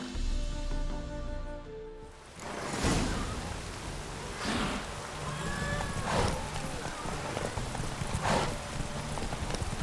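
A horse gallops in The Witcher 3, its hoofbeats clopping steadily with occasional whooshing gusts, following a brief stretch of music at the start.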